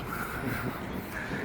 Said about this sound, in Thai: ยิ่งขึ้นมาข้างบนลมยิ่งโคตรแรง